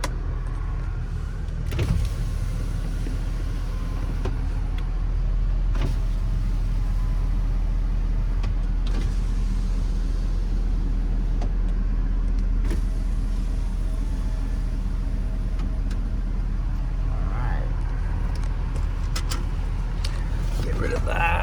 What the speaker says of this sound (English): Test this rear window here. There's full open and then full close.